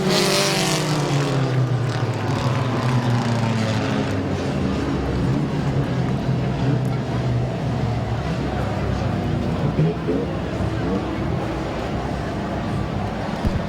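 Race cars circle the dirt track at Midvale Speedway in the final laps of a heat race, a dense continuous engine roar that swells as the pack passes, with a commentator talking over it.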